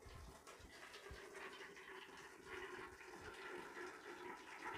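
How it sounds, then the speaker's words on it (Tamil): Boiled cluster beans are poured out of a pot along with their hot cooking water, giving a steady, continuous watery gush and splash that stays fairly even in level from start to finish, with no talking. "கொத்தவரங்காய் தண்ணியோடு இருக்கிறனால அதை அப்படியே ஊற்றுவோம்."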